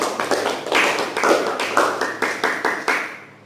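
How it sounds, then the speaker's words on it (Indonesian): Audience applause follows a presentation at a public speaking sharing session: a small group claps in quick, fairly regular bursts, close and clear, fading slightly at the end. "Oke, tepuk tangan dulu buat semuanya."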